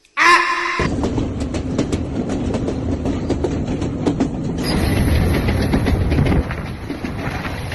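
A train near Nanu Oya station in Sri Lanka rumbles steadily along the rails with rhythmic clicking of wheels over track joints, loud and close, with no talking.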